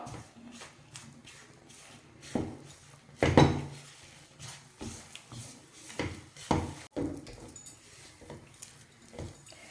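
Metal utensil scraping and clinking against a pan while ragi flour is stirred in, with intermittent knocks and scrapes of varying loudness, fairly close, no talk.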